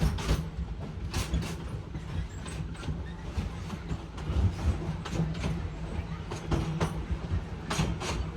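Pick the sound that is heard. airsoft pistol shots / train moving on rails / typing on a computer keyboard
train moving on rails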